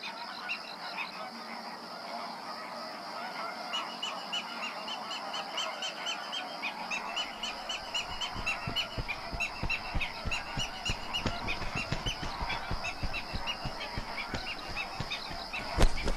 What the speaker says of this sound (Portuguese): É um paraíso para os flamingos.